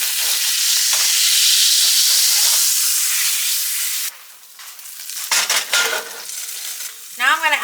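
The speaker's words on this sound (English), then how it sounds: "I'm going to drain off most of this grease" Grease drained from a hot frying pan gives a loud, steady hiss and sizzle for several seconds, then softer bubbling spatters and a few sharp clinks as the pan settles.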